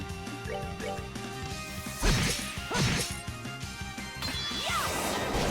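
A Cyclone Napalm attack lands in Trails in the Sky SC over battle music, with two loud crashing impacts followed by a bright sweeping burst near the end.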